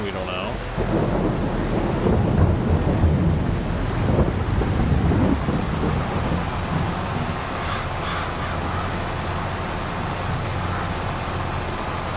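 Rain and rolling thunder in a Farming Simulator 22 game: a constant dense patter of rain with deep, sustained rumbling from a thunderstorm, steady and fairly loud throughout.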